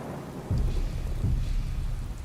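Rain and rolling thunder in Skyrim with the Lorerim modlist, a steady hiss of rainfall with low thunder rumbles swelling near the start and again midway, with nobody speaking.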